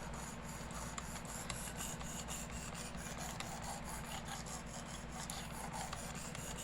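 A blade is drawn along a 320 grit stone on a Work Sharp Precision Adjust sharpener, a faint steady rubbing rasp that continues evenly without pause.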